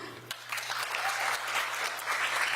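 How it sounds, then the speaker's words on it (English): Steady audience applause fills a 2024 education awards ceremony honoring DC's top teachers, a dense continuous patter of many hands clapping close and loud, with a low steady hum beneath. "come on, keep the applause"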